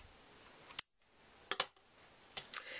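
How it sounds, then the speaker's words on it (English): Scissors snip through jute twine for a handmade card, three sharp separate cuts close by in a quiet room. "So I'm going to cut some of this off."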